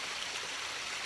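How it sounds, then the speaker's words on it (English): A waterfall-fed stream runs down beneath the front of a house and under the deck toward a roadside culvert, its steady broadband rush of flowing water continuous and fairly faint, with no voices. "waterfall that flows down kind of under the front of our house and under the deck, and down to the culvert"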